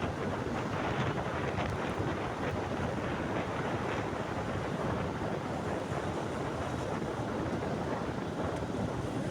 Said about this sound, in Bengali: যদিও বাইরে কিছুটা বাতাস রয়েছে